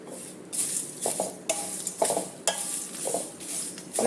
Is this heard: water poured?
no